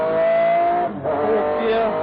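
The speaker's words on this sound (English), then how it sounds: "Just accelerating down the straight now." A 1995 McLaren F1 GTR race car accelerating on a damp circuit, its loud, close engine note climbing steadily in pitch, with a brief dip as it shifts gear before pulling hard again.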